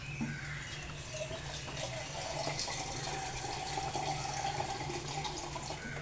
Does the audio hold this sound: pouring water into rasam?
yes